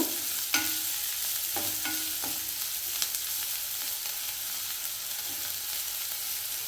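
Grated beetroot fries in oil for palya, a steady close sizzle broken by several sharp spatula scrapes and taps against the pan, with no voices.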